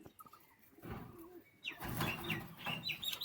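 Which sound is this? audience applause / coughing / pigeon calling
pigeon calling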